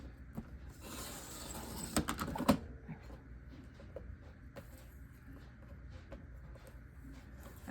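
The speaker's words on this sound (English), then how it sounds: "So I kind of have to trim this one just a little bit though." Scrapbook paper is trimmed on a paper trimmer with a quick burst of crisp slicing and rustling scrapes, close and moderately loud, followed by soft scattered taps and handling noises.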